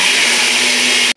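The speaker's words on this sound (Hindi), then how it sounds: "ये मैं जो मसाला सुबूता है उसको मैं मिक्सी में बारीक करूंगी।" A loud, close electric mixer grinder whirring and grinding whole spices for mango pickle at a steady high pitch, then abruptly switching off.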